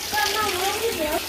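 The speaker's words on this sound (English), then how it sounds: "We're gonna fill the water and fill it up." Tap water gushes into a bathtub during a family's evening routine, a steady hissing pour heard close by, with children's voices chattering over it.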